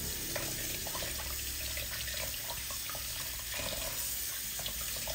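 Tap water running steadily into a sink while raw, partly frozen chicken is washed, a soft continuous splashing with faint handling noises and no talk.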